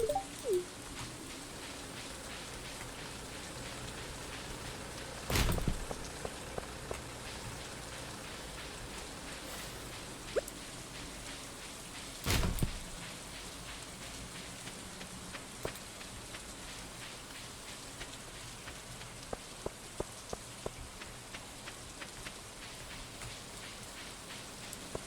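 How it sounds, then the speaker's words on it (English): Rain in the farming video game Stardew Valley falls as a steady, soft patter with scattered drips, quiet and unbroken, with two brief louder bursts and no voices. "Why is rain in Stardew Valley so relaxing?"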